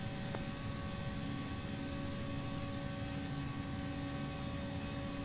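Airliner engines roaring steadily in the X-Plane 11 flight simulator during takeoff from runway 27 right, a continuous broadband rumble with a faint tonal whine, no talk over it.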